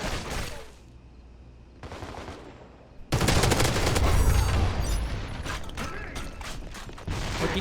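Gunfire crackles in a CrossfireX multiplayer match on Xbox, with a few short bursts and then a dense, sustained volley of rapid shots and mechanical clatter, loud and close, dropping briefly between bursts.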